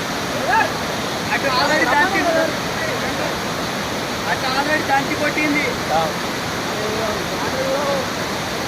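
The Baabijhari waterfall at Kerameri, swollen with floodwater, roars as a loud, continuous rush of falling water, while voices speak and call out over it.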